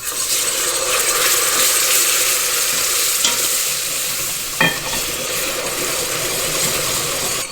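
A flour roux browns in a pan with a loud, continuous sizzle and soft bubbling. A single clink of a utensil is heard partway through, and nobody speaks.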